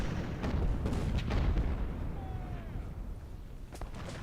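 Canister shot artillery volleys in the Ultimate General: Civil War video game, a continuous rumble of overlapping booms and crackling shots, loud at first and fading slightly, with a thin whistle passing midway.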